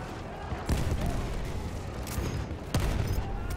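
Battlefield 1 video game gunfire, with bursts of shots crackling over a loud battlefield din, sharp heavy reports near the start and again near the end, and voices talking over it.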